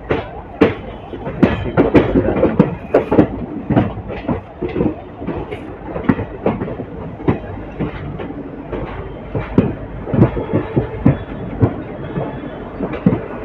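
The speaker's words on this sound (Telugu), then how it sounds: "ఏదో ట్రైన్ బయటకు వస్తుంది బళ్ళారి స్టేషన్ నుంచి" A train rolls out of Bellary station, with steady rumbling and repeated clattering thumps of wheels over rail joints. It is fairly loud and continuous throughout.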